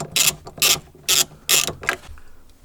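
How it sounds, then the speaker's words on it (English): A ratchet turns a 10mm socket to loosen a nut on a BMW, giving four or five close, loud bursts of rapid clicking separated by brief pauses. "using a 10mm right here on this nut. Just going to loosen it up."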